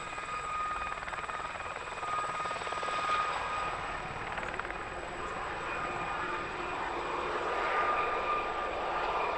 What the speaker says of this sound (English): Next up is a 2-ship display by the Gazelle Squadron, one of the foremost operators of Westland Gazelles in the UK.